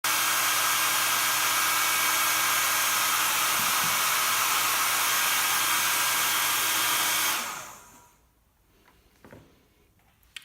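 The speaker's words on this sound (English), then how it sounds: "I'm going to just turn on my hair dryer, dry this up a little bit" A hair dryer blows on wet paint with a steady, loud whir for several seconds, then switches off, leaving near silence and a few faint clicks.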